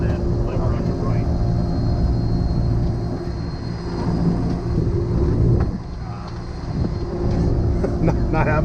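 A Beechcraft King Air A90 turboprop taxiing, its engines giving a steady loud drone with a constant tonal hum from start to finish, heard from inside the cockpit, with talk between the crew over it.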